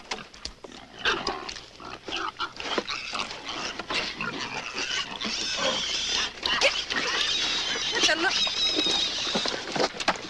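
Pigs at feeding time grunt and squeal in a jostling crowd, busy overlapping oinks and shuffling that grow denser and shriller toward the end, mixed with raised voices shouting at the animals.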